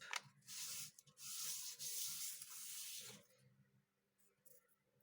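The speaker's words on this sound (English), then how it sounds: "I'm just going to lightly sand this page" Light sanding strokes across a paper page, a dry scratchy rasp in several bursts over the first three seconds, close up, then fading to quiet.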